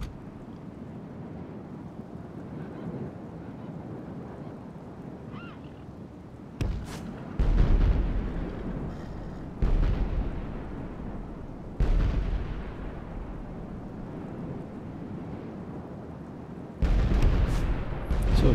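Artillery fire in a historical strategy game battle in Korea, with several heavy booming impacts recurring every few seconds over a low rumbling battlefield background.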